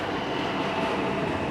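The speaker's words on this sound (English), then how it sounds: "The subway is currently coming." A subway train rolls into a metro station with a loud, steady rumble and a broad, even roar that holds with no breaks.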